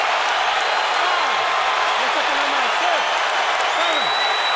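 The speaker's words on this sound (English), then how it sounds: "Crowd erupts in the Oracle Arena in Oakland as local hero Andre Ward delivers a knockdown in round 3" A boxing crowd in Oakland's Oracle Arena roars after a round-three knockdown, a dense loud sustained cheer with applause filling the whole span.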